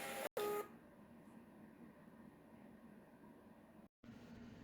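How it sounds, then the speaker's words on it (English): A Munbyn Bluetooth label printer gives a short beep, then a steady, low whirring hum for about three seconds of printing, close by and alone, ending in a brief gap. "This prints so fast. This is just an amazing printer."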